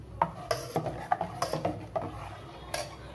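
Soft scraping and clinking of a spoon against metal cookware, a series of irregular taps and rubs as honeydew sago dessert is moved into another pot.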